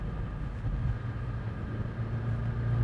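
A 2016 Ford Mustang GT350 with sport exhaust idles in a low, steady, even rumble, close and continuous, with no one talking.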